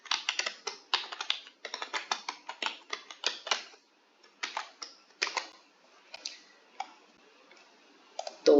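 Someone types Python code on a computer keyboard, quick runs of crisp key clicks in short bursts with brief pauses, close and fairly quiet.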